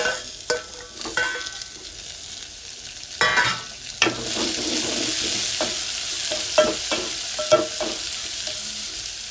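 Tomatoes tumble into a pan of frying dal palak and get stirred, with a steady sizzle beneath intermittent scraping and clattering strokes of a spoon against the pan, fairly close.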